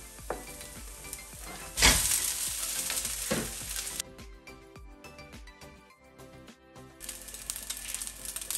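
Rice stir-fried in a wok with spring onion and garlic, loud sizzling frying with scraping and tossing of the spatula, a sharp clatter near the start and a quieter stretch partway through.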